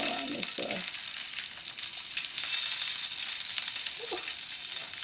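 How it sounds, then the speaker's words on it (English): Sausages frying in a pan on a home stove, a steady bright sizzle running throughout with a couple of low clunks early on and a brief knock near the end, close and fairly loud. "the sausages is cooking on the stove right now"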